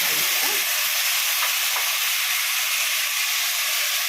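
Onion, garlic and tomato sauté in a hot pan, a loud continuous hiss and sizzle that fills the whole stretch, with a few faint utensil scrapes early on.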